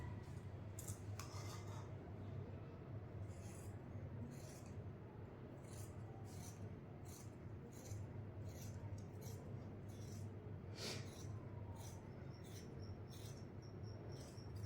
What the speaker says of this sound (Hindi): अब आसन की कटिंग करेंगे।